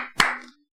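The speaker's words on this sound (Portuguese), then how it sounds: "Se eu começo a bater palma aqui," One sharp hand clap rings out close by in a quiet room. It decays quickly into silence.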